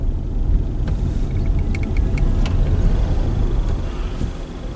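Hyundai Ioniq 5 electric car accelerating, heard as low road rumble and tyre noise from inside the cabin, with a few faint high electric whines and ticks over the top and no talking.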